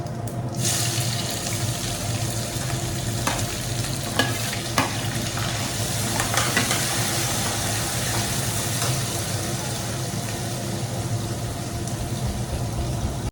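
Onions fry in hot oil seasoned with ajwain, asafoetida and cumin for a home-cooked okra dish, producing a continuous close sizzle with scattered stirring scrapes throughout.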